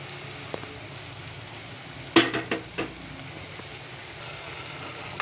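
Green peas sautéing in a pan of oil spiced with turmeric and goda masala, a steady low sizzle broken by a cluster of sharp scraping stirs near the middle, fairly quiet and with no voices.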